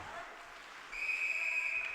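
A referee's whistle blows at an ice hockey game, one sustained shrill blast of about a second heard over faint arena crowd noise.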